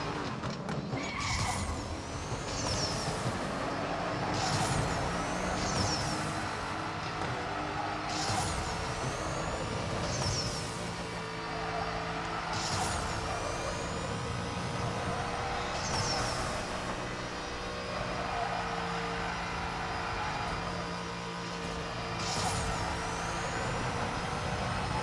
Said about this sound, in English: All muscle car battle along the bay side.